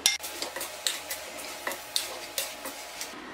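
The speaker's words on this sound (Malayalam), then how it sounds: "എല്ലാം കൂട്ടിയിട്ട് നല്ലതുപോലെ ഞാൻ മിക്സ് ചെയ്തിട്ടുണ്ട്" Chopped tomatoes and spices being stirred in a pan for tomato rice, a steady run of soft scraping strokes with a faint sizzle underneath, close up and moderately loud, with no voices.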